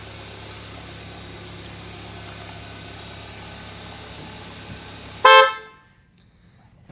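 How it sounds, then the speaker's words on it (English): A 2015 Kia Optima idles with a low, even engine hum, then gives one loud, short horn honk that cuts off sharply into near silence. "After we blow the horn and wake you up"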